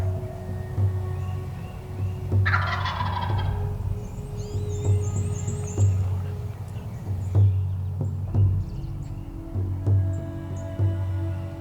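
A wild turkey tom gobbles repeatedly in a mountain woodland at hunting season, a warbling gobble recurring every second or two at moderate distance over steady low outdoor rumble, with birdsong trills overhead.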